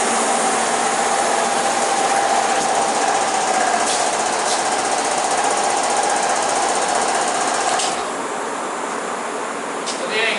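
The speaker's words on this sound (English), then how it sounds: "I'm gonna turn off the compressor." An air compressor runs loud and steady during gelcoat spraying on a new jet boat hull, a dense continuous mechanical drone with rattling knocks throughout, easing to a lower level for the last couple of seconds.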